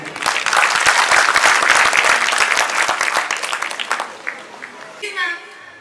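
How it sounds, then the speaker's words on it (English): Audience at a school annual function clapping loudly for two student performers, dense applause that gradually thins out, followed by a voice starting to sing near the end. "Please give them a rocking clapping."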